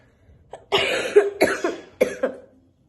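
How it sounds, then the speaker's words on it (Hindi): A short cough followed by a run of three harsh, close coughs in quick succession, each trailing off, with silence around them. "मेरे को तो बोलते ही खांसी हो रही है"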